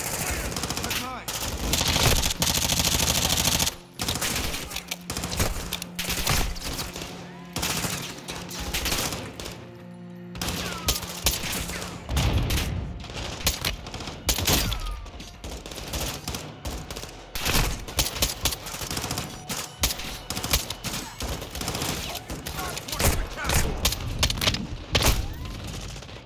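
Sustained automatic gunfire in the Call of Duty: Modern Warfare II campaign, loud dense bursts and rapid volleys running nearly nonstop, with a brief lull and occasional shouted voices mixed in.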